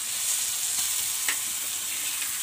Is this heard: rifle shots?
no